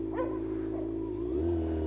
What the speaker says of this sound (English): Oh look at the dog, he loves bikes.